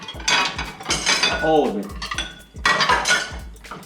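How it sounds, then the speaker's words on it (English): Metal cutlery clatters onto a ceramic plate taken from a washing stack, with several loud, close clinks and rattles in quick bursts; a person speaks briefly over the clatter. "take a plate outside of the washing stack and place all your cutlery here"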